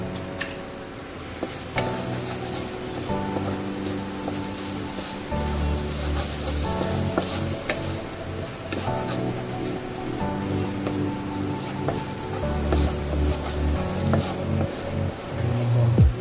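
Chicken pieces fry with coriander powder on an induction cooker while being stirred, giving a steady sizzle with scraping spoon strokes and a low hum throughout, close and moderately loud.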